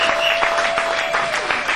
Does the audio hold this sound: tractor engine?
no